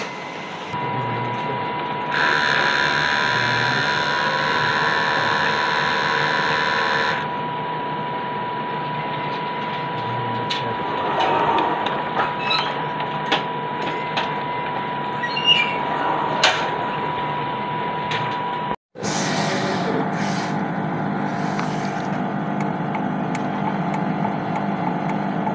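An XP600 printer running a head clean cycle, with steady mechanical whirring and a tonal motor hum, then ratcheting clicks and gear rattles, a brief cut to silence, and a renewed whirr afterward.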